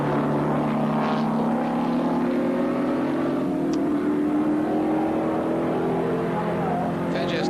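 At the Sandown circuit in 1978, historic racing cars including those of Juan Manuel Fangio and Jack Brabham roar past, their engines rising steadily in pitch as they pass and repass. The sound is loud and continuous, with overlapping engine notes.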